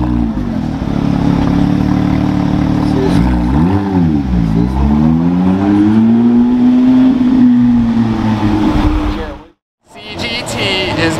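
A Porsche Carrera GT's V10 engine is loud and close as it revs and drives, its pitch dipping and climbing through several throttle blips before settling into a long sustained tone. A short silent gap follows, then the engine sound returns.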